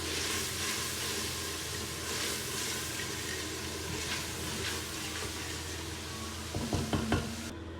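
Red chilli and turmeric frying in a pan for an aloo gobi curry give a steady, close sizzle with faint stirring, and a few louder clinks of a utensil against the pan near the end.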